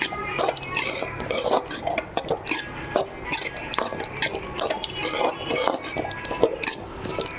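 Lemon rice being mixed in a metal vessel, a spoon scraping and clinking steadily against the sides in close, continuous irregular strokes with no talking.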